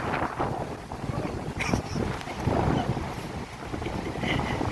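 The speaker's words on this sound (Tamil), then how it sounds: "செம்ம காற்று அடிக்குதுங்க சரியான காற்று" Strong wind at Port Dickson beach, Malaysia, buffets loudly and constantly, roaring across the microphone with surging gusts, faint voices underneath.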